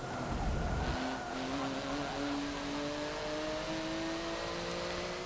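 A race car engine in Forza Motorsport 7 running near redline, a steady high droning whine that climbs slowly in pitch, heard alone at moderate volume after a brief low rumble at the start.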